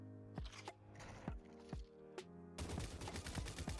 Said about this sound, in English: Peek over this wall and shoot the target.